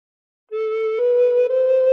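A recorder sounds a single sustained note from a phrase of The Star Spangled Banner after a moment of silence, clear and steady, close and alone.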